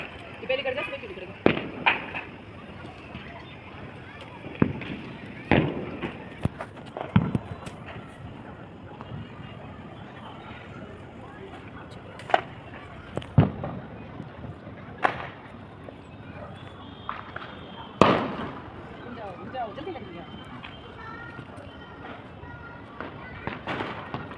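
Firecrackers crackle and pop in a scattered string of sharp bangs, some louder and closer than others, amid outdoor festive noise on the evening of Karva Chauth, with people talking throughout.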